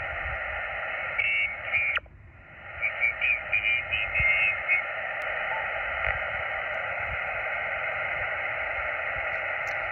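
A ham radio receiver tuned low in the 40 meter band on a portable field setup, giving a steady hiss of band noise with a brief burst of chirpy warbling signals early on.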